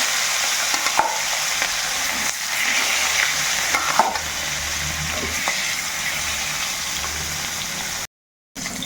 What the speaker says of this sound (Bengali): এখন কিন্তু মাছ ভাজার জন্য দিয়ে দেব সরিষার তেল